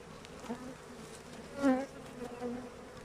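Honeybees crowd a beehive filled to overflowing during a strong pollen flow, giving a soft, steady humming drone with a brief louder buzz as one bee passes close.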